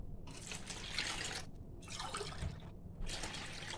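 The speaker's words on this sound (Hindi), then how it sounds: "दो गिलास पानी इसमें डालना है" Water poured into a bowl of leftover besan mixed with yogurt for kadhi batter: three bursts of pouring and splashing separated by short pauses, close and fairly quiet.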